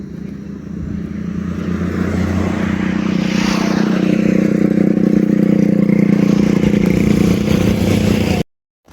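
A drone whirs in a steady, loud propeller drone as it returns home over farm fields and descends, the buzz holding for about eight seconds before cutting off abruptly.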